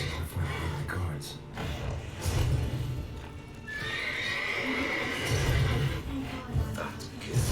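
A horse whinnies loudly in The Witcher 3 video game, with hooves clip-clopping and game background noise, while people talk over it.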